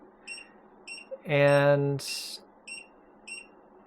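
A solar inverter being upgraded from a 6000XP to a 12000XP gives evenly spaced short, high beeps, broken once by a longer buzzing tone and a brief hiss, with a voice heard briefly.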